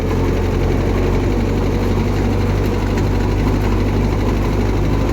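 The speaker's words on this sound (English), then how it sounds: "got this 52 8N Ford tractor running and driving" An old 1952 Ford 8N farm tractor engine runs steadily as it is driven around the block, giving a loud, continuous low rumble with a constant idling throb and no talking.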